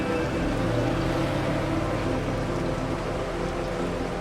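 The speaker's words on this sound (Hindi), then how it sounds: "तेज बारिश हो रही है।" Heavy rain pours in a dense, steady roar that stays close and constant throughout, with no voices.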